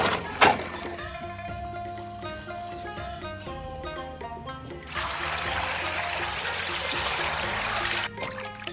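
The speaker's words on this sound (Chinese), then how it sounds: "倒上水，" Water pours over pork skin in a container to soak it, a bright trickle and splash that swells into a fuller steady rush for a few seconds, then cuts off, with no one talking.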